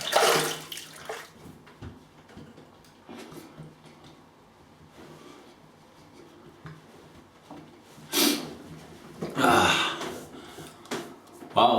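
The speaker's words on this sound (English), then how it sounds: "I'll rinse off with some hot and cold." Tap water runs and splashes in bursts as a face is rinsed after a shave, loud gushes near the end separated by quieter dripping and handling sounds.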